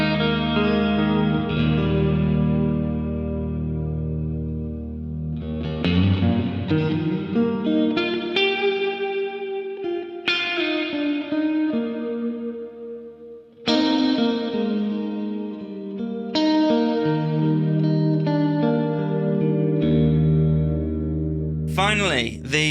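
Guitar run through a deep, simple plate reverb pedal: sustained chords and notes with long, lush washing tails, steady and fairly loud, with a brief swelling pitch sweep at the end.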